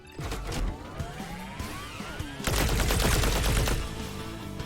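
Gunfire in the roguelite first-person shooter Battle Shapers: rapid volleys of sharp shots crackle close and loud, then a denser sustained burst of automatic fire takes over partway through.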